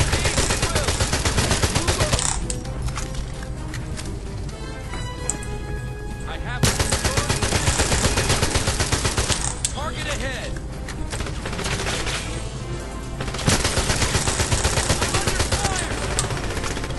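Gunfire in 007 Legends during the Goldfinger Fort Knox level: loud, rapid automatic bursts in several long stretches separated by brief lulls, with game voices faintly mixed in.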